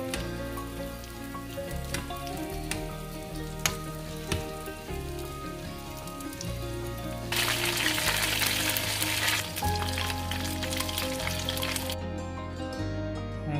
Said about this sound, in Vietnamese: Bây giờ mình chiên sơ qua một lần